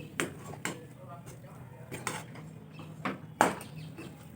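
A spatula scrapes and knocks against a pan as mashed potato filling for chilli fritters is dry-fried without water, sharp irregular clinks repeating every second or so, close and fairly quiet.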